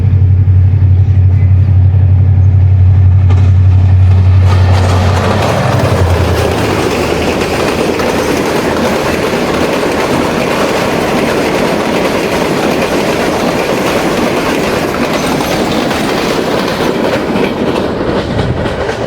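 GMU 30 diesel locomotive number 8220 hauling the 5 Up Green Line express past at high speed, a deep engine drone giving way to loud, steady rushing and clattering of wagons close by, with no talk.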